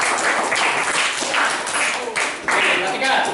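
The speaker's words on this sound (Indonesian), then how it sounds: "Tepuk tangan semuanya." Students in a classroom clap together in a brief round of applause, a rapid uneven patter of hands rising and falling in bursts, with some voices mixed in.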